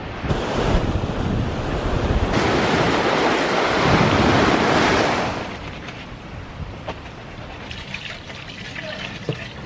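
Surf rolls onto the beach at Arugam Bay, Sri Lanka, a loud sustained wash of waves with heavy wind buffeting the microphone, then easing to a quieter, choppier rush near the end.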